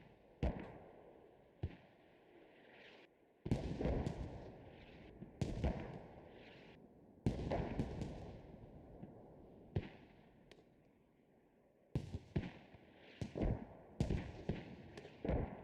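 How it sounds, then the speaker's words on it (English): Mortar shells exploding in a forest in the military shooter game Squad, a series of heavy booming blasts at irregular intervals with long decaying rumbles over a constant background hum. "Seems like it's a gauntlet of mortars in this forest"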